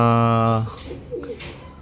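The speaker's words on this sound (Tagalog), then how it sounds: "14 lang mga kalapatids out of 27." Racing pigeons in a loft cooing, one close bird's long, resonant coo followed by softer, broken coos and rustling.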